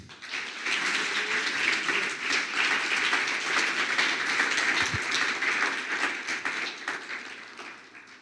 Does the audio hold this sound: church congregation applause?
yes